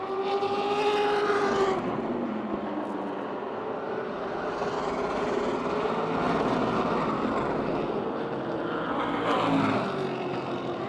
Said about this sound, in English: With 15 laps to go, Henry pulls up to the rear bumper of Neil Brown